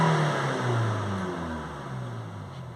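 A Range Rover Evoque 2.0 diesel with soot build-up in the particulate filter and a blocked AdBlue injector revs hard, its engine note rising and then easing steadily downward, loud and close with no talk.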